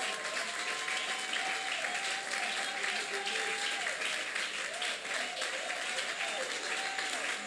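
A church congregation at a Sunday service applauding, dense, sustained clapping from a large crowd filling a reverberant hall, with singing or voices carrying over it.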